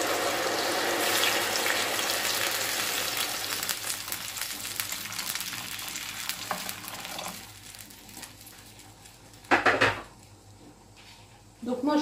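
Water poured into a cooking pan of vegetables with Provence herbs, a running splash that tapers off, then a couple of brief utensil clatters near the end, close by in a home kitchen.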